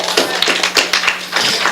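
A church congregation gives a short round of applause, with uneven bursts of close, sharp claps and taps over about two seconds.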